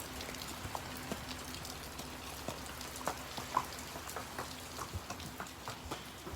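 Rain falls at a barn with a soft, steady patter, with scattered louder drips landing nearby throughout.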